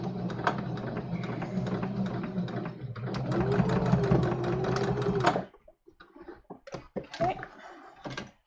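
A sewing machine runs a straight stitch in a steady, close, mechanical whir for about five seconds, then stops, followed by light scattered clicks and handling sounds.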